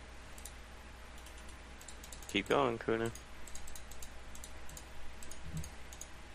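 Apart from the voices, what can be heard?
computer keyboard typing heard over a Skype call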